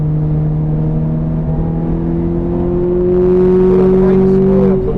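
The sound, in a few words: Ferrari F430 accelerating on wet Silverstone track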